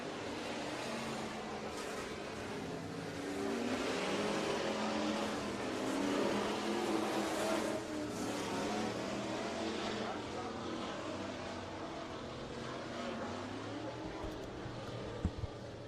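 Race cars run a heat race at Bakersfield Speedway with a continuous, layered engine roar that rises and falls as the cars circle the track, loud and sustained for the whole stretch.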